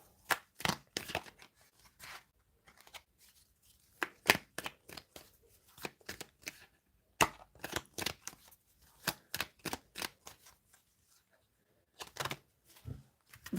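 Tarot cards being shuffled and drawn, heard as sharp, irregular papery riffles and snaps in scattered bursts with short pauses between them, close and alone.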